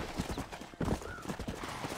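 Horse hooves in the video game Red Dead Redemption, a quick run of soft clip-clop footfalls, fairly faint and close, with low background noise and no talk.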